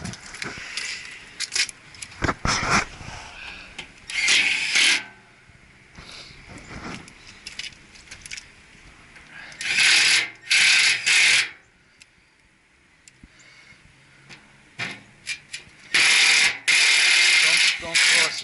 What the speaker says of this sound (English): Just put the fasteners on.